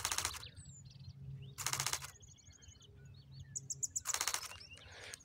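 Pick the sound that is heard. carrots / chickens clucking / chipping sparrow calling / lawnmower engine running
chipping sparrow calling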